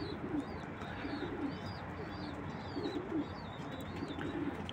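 Turkish tumbler pigeons coo in soft, repeated rolling calls over a busy, noisy background, with faint chirps mixed in and no one speaking.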